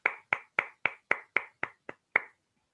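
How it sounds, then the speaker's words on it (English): Nine sharp, evenly spaced claps over about two and a half seconds at a meeting, close and crisp, then silence, sounding more like a small group or a single person clapping than a full audience. "Let's give them all a big round of applause."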